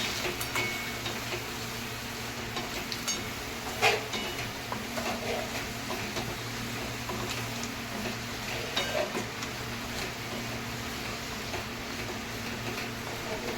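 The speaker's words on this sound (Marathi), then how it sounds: "सर्व खेकडे वगैरे टाकायचे आपल्याला. मिक्स करून घेऊया मसाल्यामध्ये चांगले" Crabs are stirred into hot, oily masala in a pan for a spicy crab curry. A soft, steady sizzle runs throughout, with occasional clicks and scrapes of a spoon against the pan.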